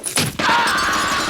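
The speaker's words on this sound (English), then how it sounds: "did you hear those gunshots?" A quick burst of gunshots rings out in a ninja and samurai video game set on a train, loud and close, followed by a sustained rumbling wash.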